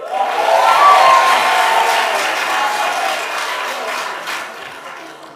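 An audience in a live event hall responds with a loud burst of crowd noise and cheering that swells early and then slowly fades over several seconds.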